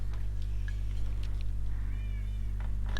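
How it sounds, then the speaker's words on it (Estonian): A cat meows a few times in the video game Minecraft, short tonal cries over a loud, steady low drone of game sound. "See on ju minu kass."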